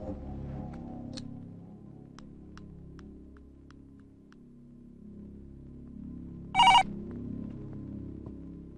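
A telephone rings once in a short, bright burst partway through, standing out over a low background hum with a few faint ticks.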